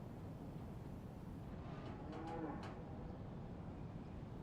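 Cow in the survival game DayZ letting out a single low, drawn-out moo midway through, faint and distant over a constant noisy background.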